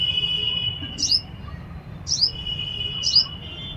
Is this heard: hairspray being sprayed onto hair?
no